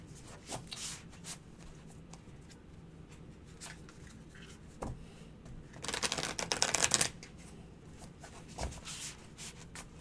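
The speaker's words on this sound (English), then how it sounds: "needs to shuffle the cards" Tarot cards being shuffled close by in a quiet room, with scattered light taps and a dense riffling burst in the middle, faint overall.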